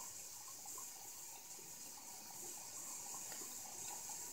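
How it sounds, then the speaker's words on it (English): Melting soggy ice water drains down through little holes, producing a steady, soft trickling hiss that runs evenly throughout with no talking. "So I'm just going to let the water go down the little holes."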